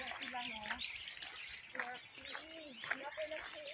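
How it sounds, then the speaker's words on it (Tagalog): Many birds chirping along a city street in Daegu, South Korea, a busy layered mix of repeated calls from nearby, with people talking over them throughout. "Wow, maraming birds. Maraming ibon."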